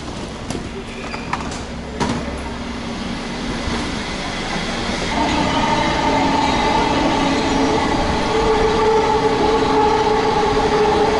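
A New York subway train rumbles loudly and steadily, with rail clatter and a few sharp clanks early on, then a sustained high metallic squeal building over the later part of the run.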